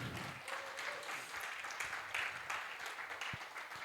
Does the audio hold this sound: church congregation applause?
yes